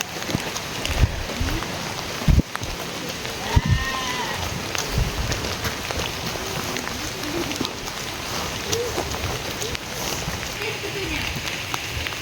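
Steady rain patters over a muddy village road, a broad hiss that runs unbroken throughout, with a goat or sheep bleating now and then and a few sharp knocks nearby.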